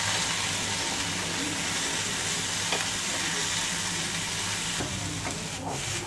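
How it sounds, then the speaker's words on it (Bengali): Boiled chickpeas fry in a little oil with ground black pepper and salt, giving a continuous close sizzle broken by a few spatula scrapes and taps. "এখন অল্প একটু তেলে আমি চিকপিটাকে ভেজে নিব"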